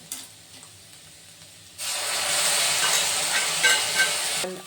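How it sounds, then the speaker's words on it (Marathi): Onion and tomato sautéing in hot oil: a quiet pan suddenly bursts into a loud, steady hiss and sizzle that continues for a few seconds before dropping off. "कांदा आणि टमाटर चांगले परतून घेतलेले आहेत"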